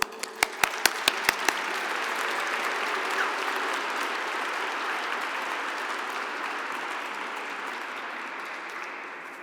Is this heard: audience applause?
yes